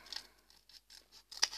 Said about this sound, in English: and then with a pair of scissors